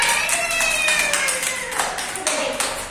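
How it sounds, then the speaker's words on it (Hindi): Children clapping in a classroom science activity, quick uneven bursts of small hands close by, with a voice and speech running over the clapping throughout. "तालियां बजाओ सब।"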